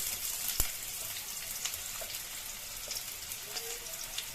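Onions fry in hot oil in a pan for coriander rice, giving a steady, even hiss that sounds like light rain, with faint occasional pops and a single clack near the start.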